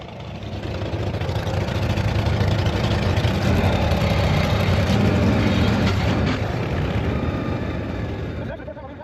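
A David Mann chopper motorcycle engine rumbles steadily and loudly while being ridden, a dense low drone with wind noise that swells and holds across the whole stretch before easing at the end.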